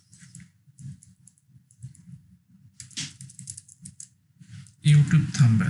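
Quick clicks of typing on a computer keyboard, soft and close, come in scattered bursts while a voice talks over them, ending in a louder burst of noise.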